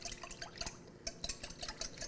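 A mixture of one whole egg, vanilla extract and two tablespoons of cold water being whisked in a bowl, with quick, close, wet clicks and splashes in a steady rapid rhythm.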